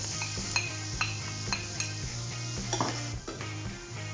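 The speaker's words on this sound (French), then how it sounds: "on va y ajouter les échalotes ou les oignons" Chopped shallots or onions go into a pan for a mushroom duxelles, with a steady close sizzle under repeated light clinks and scrapes of a utensil against the pan.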